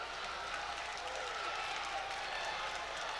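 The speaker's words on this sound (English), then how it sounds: "The crowd is supporting this group" A home crowd at Hope Fieldhouse cheers and applauds steadily during a women's college basketball game, a dense, continuous roar of clapping and shouting that fills the arena.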